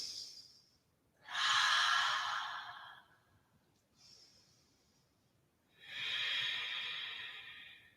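Steady, audible yoga breathing held through a warrior pose: a pattern of long hissing breaths, two strong airy exhales of about two seconds each alternating with softer, shorter inhales, close to the microphone with no talking.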